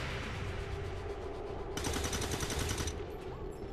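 Gunfire in the space strategy video game Stellaris: a rapid, loud burst of shots lasting about a second, over a steady background drone.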